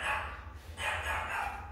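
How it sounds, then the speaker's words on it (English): A dog barks twice in quick succession, moderately loud and somewhat distant, with a low steady hum underneath. "I try to tell him to stop barking, but he never stops for some reason."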